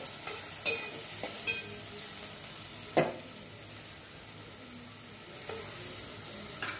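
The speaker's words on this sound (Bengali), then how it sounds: "পেঁয়াজটা একটু ভেজে নিচ্ছি।" Onions frying in hot oil in a home kitchen, a soft continuous sizzle broken by a few sharp clicks and scrapes of a utensil stirring the pan, one clearly louder at mid-clip.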